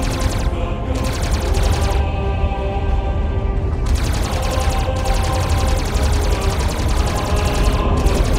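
Weapons firing in a space battle over Earth in Iron Sky: Invasion, a continuous loud barrage of rapid machine-gun-like bursts and booms running the whole time, with brief gaps in the higher crackle.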